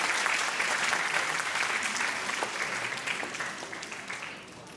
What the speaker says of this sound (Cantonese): 我哋事不宜遲，俾啲掌聲我哋嘅基督小學園為我哋演出正劇《主耶穌誕生了》